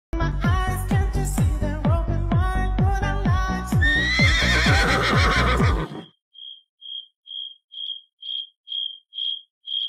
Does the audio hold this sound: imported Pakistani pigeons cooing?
no